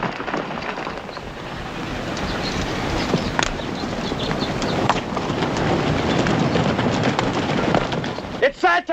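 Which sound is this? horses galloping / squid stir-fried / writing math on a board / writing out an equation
horses galloping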